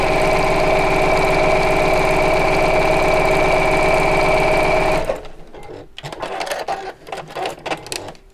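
A sewing machine runs steadily for about five seconds, stitching down each side of folded fabric for bag handles, with a constant whirring drone, then stops, leaving quieter handling clicks and rustles.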